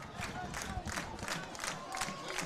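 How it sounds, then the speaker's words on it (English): A home crowd at a high school football game between Maumelle and Vilonia rumbles steadily in the distance, with cheering and clapping rising in repeated swells over continuous crowd noise. "I'm going to let you listen to our crowd for a minute."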